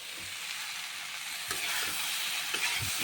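Spices and bay leaves sizzle steadily as they fry in a pan, with a few scraping stirs and light clinks breaking through the continuous hiss, close and moderately loud with no talking.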